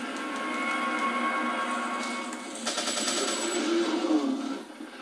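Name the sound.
gunfire in video game Resident Evil 4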